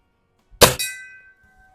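A .22 pellet fired from a Cometa Fenix 400 air rifle strikes a steel gong with one sharp metallic clang. A clear ring follows and fades over about a second.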